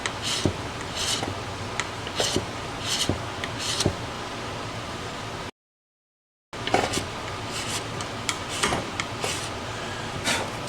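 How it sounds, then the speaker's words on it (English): A bone nut for a vintage Hohner Shark Fin guitar being filed to shape, with repeated rasping file strokes in short, irregular bursts, close up, broken by a second of silence midway. "I'm just trying to file it down enough that it's similar to the shape of the old nut."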